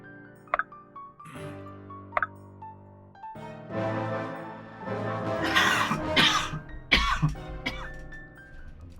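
A person coughs and clears their throat several times, with sharp isolated coughs early, then a longer cluster of harsh, rasping coughs close to the microphone.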